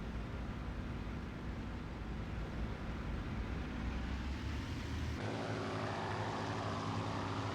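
A propeller fighter plane's engine drones steadily in a flight combat game, a continuous throaty roar that shifts abruptly in tone partway through, with no voices over it.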